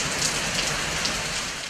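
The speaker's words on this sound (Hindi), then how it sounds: "जुड़वा शहरों इस्लामाबाद और रावलपिंडी में मूसलाधार बारिश हुई।" Heavy downpour in Islamabad, a dense, steady hiss of rain pounding surfaces, close and continuous with no voices.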